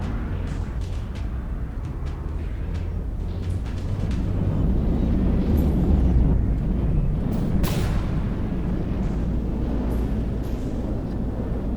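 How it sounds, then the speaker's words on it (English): Naval combat in the From The Depths game produces a dense, continuous roar of missile, torpedo and cannon fire. Heavy low rumbling runs throughout, with scattered sharp blasts and one louder explosion near the end. "There's torpedoes, there's missiles everywhere, cannons. It's chaos."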